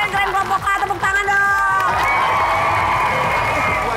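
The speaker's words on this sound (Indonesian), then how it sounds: "Keren, kelompok A, tepuk tangan" A studio audience at a TV quiz show cheers and shouts for a winning team, loud and close, with excited voices and whoops rising into a sustained roar of crowd noise.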